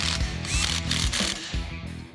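A hand ratchet snugs down the bearing cap bolts on a Jeep axle, giving a close, rapid run of mechanical clicks over about two seconds.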